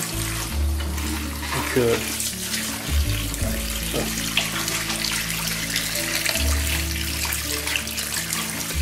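Tap water runs steadily to rinse a darkroom photo print after fixing, a continuous splashing flow close by, with someone speaking French over it.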